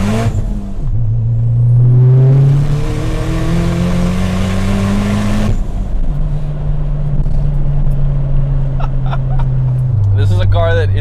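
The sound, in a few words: Dodge Caliber SRT-4 engine revving, hitting rev limiter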